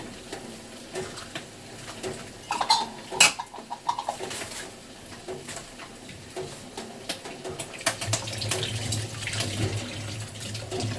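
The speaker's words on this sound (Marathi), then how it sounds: "माठ धुवून मस्त माठात पाणी भरते." Water runs from a tap into a clay pot, splashing and gurgling steadily, with birds chirping faintly in the background.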